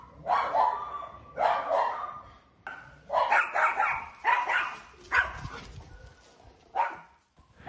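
A dog barks repeatedly in short loud bursts with brief gaps, some yips mixed in, close and clear over faint background noise, out in the wild.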